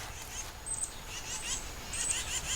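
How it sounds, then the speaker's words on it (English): A large flock of migrating birds, geese or ducks, settles near a parked RV, giving steady honking and calling throughout, moderately close with no break in the din. "Hundreds of birds."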